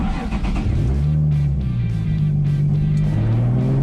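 A Trailblazer SS drift build revs hard in first gear, its engine note climbing steadily as the car pulls away and gathers speed, loud and close throughout with no talk.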